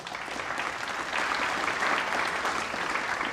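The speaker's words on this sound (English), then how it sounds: "All right, round of applause for AppDynamics." Steady, fairly loud audience applause at a tech monitoring conference as AppDynamics presenters take the stage, continuous clapping with no talk.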